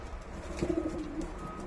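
Pigeons coo softly at mid distance, a short throaty rolling call rising out of a steady background murmur, from prize-winning show pigeons in a Turkish loft.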